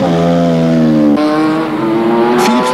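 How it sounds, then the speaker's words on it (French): A Ligier Formula 1 race car at Monza screams past loud and close, its high engine note holding steady, then dropping sharply as it shifts and climbs again. "À Monza, il est au volant d'une Ligier."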